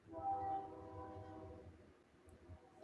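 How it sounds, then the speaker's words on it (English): A train passes in the distance, its horn giving one sustained, faint tonal blast before fading into low rumbling background noise. "The train going by."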